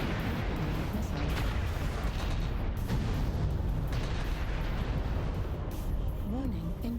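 Missile impacts in MechWarrior Online boom and crackle in a dense, continuous barrage of explosions and gunfire. A synthetic voice and a voice talk over the loud din.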